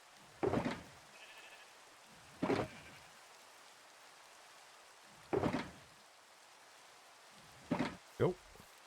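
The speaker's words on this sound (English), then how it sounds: "And this is just 2 sheep." Sheep in the Minecraft video game bleat in short separate calls, four or five bursts spaced a couple of seconds apart, fairly clear against a quiet background.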